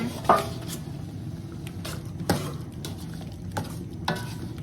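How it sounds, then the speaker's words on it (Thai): Pork belly stir-fried in braising sauce in a pan: a steady low sizzle with periodic scrapes and clinks of a spatula stirring against the pan, close by. "พอเราคั่วเราคนจนหมูสามชั้นเซ็ตตัวดีแล้วนะคะ"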